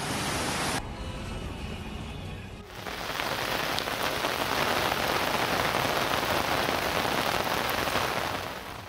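Heavy rain pours down steadily in a city under a weather alert, a loud, dense, continuous roar of water that shifts tone briefly near the start, then holds constant with no voices.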